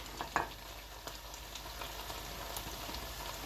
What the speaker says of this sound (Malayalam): ഇനി അതിനകത്തോട്ട് ബേസിൽ ലീവ്സ് ആഡ് ചെയ്ത് കൊടുക്കാം. അത് നല്ലതായിട്ട് മിക്സ് ചെയ്ത് കൊടുക്കാം.